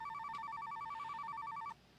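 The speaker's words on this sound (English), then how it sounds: "Well, the phone, she's not stopping." A telephone rings in a fast, warbling electronic trill that repeats steadily for under two seconds before cutting off, fairly quiet with a faint background hum.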